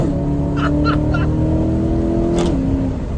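Chevrolet C8 Corvette with its exhaust valves open in track mode, engine held near 3,500 RPM in a steady loud drone that shifts pitch once near the end, heard from inside with the windows down.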